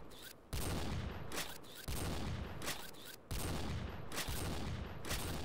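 Gunfire in XSHOT, a shooting video game: dense, continuous bursts of loud shots in long sustained volleys with brief breaks between them, close and overwhelming.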